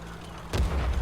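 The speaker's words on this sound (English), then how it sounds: "there's a second blind shot" An artillery blind shot lands in World of Tanks, a single deep boom with a rumbling tail about halfway through, after a low, steady background hum.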